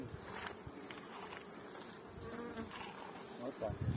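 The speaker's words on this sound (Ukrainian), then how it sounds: "Зльот бджоли з даного вулика." A steady, close buzzing drone of many bees flying out of a hive, continuous and busy, with faint rustling movement underneath.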